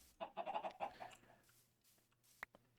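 Chickens in the Minecraft GregTech New Horizons modpack give a quick run of clucks near the start, then fade into quiet low game ambience with a couple of faint clicks; soft and nearby, no talk.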